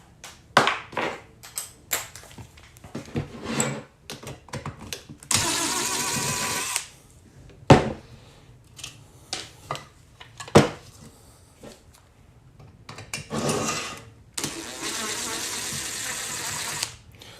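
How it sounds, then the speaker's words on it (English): Screws being taken out of a car head unit chassis, with irregular clicks, scrapes and short whirring bursts from a tool, close up, and some brief talk in between. "Got more screws to unscrew."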